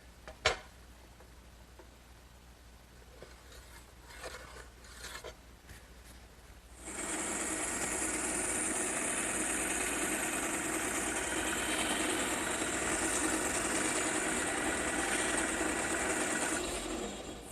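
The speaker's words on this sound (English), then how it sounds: "it's quite a luxury to have a bandsaw like this in the shop, but it sure does a great job" A bandsaw cutting wood in a woodworking shop while building a chest of drawers: after a few faint clicks, a loud, steady broadband whine starts partway through and runs without a break to the end, with no talking.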